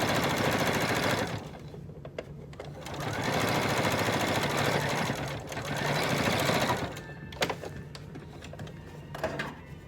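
A sewing machine stitches through bulky layers of a fabric mask in loud, fast mechanical bursts with brief pauses between runs, close up and without talking.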